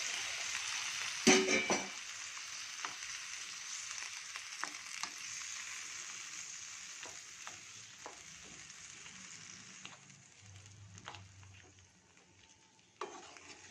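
Rice rava frying in a pan with vegetables, a soft, continuous sizzle fading slowly, with a sharp stir or clatter near the start and light scraping taps scattered through.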